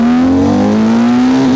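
An ex-police BMW R1200 RT shaft-drive motorcycle pulls hard from a standstill toward 100, its engine tone climbing in one loud, steady rise with wind rush behind it.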